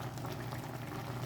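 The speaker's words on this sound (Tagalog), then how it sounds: "Nagbukal na siya guys." Sprite and butter sauce for shrimp boiling in a pot, a dense steady bubbling burble heard close up for a brief moment.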